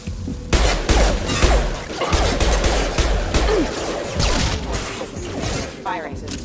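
Rapid gunfire during a Mass Effect 2 firefight: loud, dense volleys of sharp shots and impacts fill the whole stretch while voices speak over the combat.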